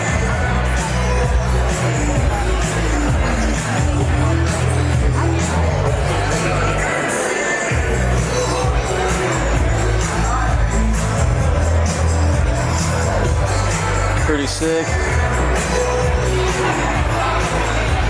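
Crowd at the Hennessey Venom F5 Revolution supercar unveiling, a dense, steady babble of many voices filling the space with rumbling low noise, occasional knocks, and a nearby voice speaking briefly.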